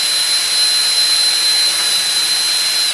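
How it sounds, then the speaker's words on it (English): A power drill running at low speed bores a hole through thin plastic while building a DIY combustion chamber, giving a steady, even whine that holds for about three seconds before it stops. "I got the drill on slow."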